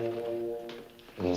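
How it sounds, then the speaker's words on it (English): A tuba played in a latrine gives a low, sustained, slightly wavering honk that fades, then another note swells at the end. "So he's playing the tuba."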